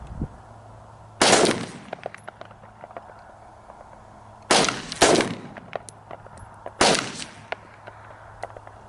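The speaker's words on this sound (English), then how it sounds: "there are 2 shooters calibrating their sights, both of which are firing evenly spaced" Four sharp rifle reports from two shooters calibrating iron sights at a firearm qualification, each loud crack trailing into a short echo, spaced a few seconds apart with a close pair in the middle, over a quiet outdoor background.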